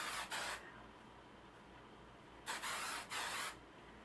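Hair spray hisses from an aerosol can during curling with a curling wand, in three short bursts: one near the start, then two close together about two seconds later, with quiet in between.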